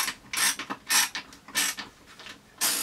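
A number 1 Phillips screwdriver backs long screws out of a Nintendo GameCube casing, giving a close, repeated series of ratcheting, creaking turns in short bursts with brief pauses between them.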